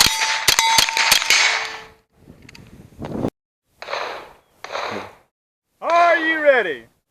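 Rimfire rifle and pistol shots ringing off steel targets at a Steel Challenge match on an outdoor range, a quick burst of sharp clangs up front followed by scattered separate bursts and a pause, with short voiced sounds near the end.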